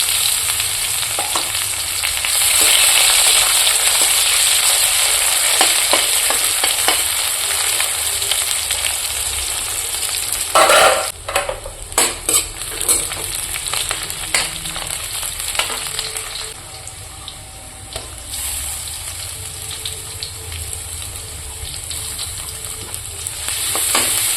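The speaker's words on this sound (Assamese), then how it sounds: "তেলখিনি গৰম হৈ গৈছে, পিঁয়াজখিনি দি দিছোঁ।" Chopped onions sizzling steadily in hot oil in a home kitchen pan for an Assamese fish curry, a dense continuous crackle with occasional louder stirring scrapes, close and fairly loud throughout.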